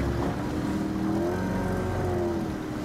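A speedboat engine in Sydney harbour, a steady droning motor close by whose pitch wavers slightly as it runs, mixed with wind and water noise and no talk.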